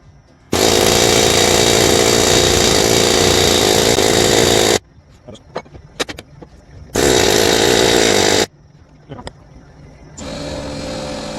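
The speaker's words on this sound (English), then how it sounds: "let's give the air hammer a try" Pneumatic air hammer working on the rear axle of a Silverado Duramax crew cab dually during an AAM 11.5 rear end rebuild, loud sustained rattling bursts of about four seconds and under two seconds with quieter clanks and shop noise between.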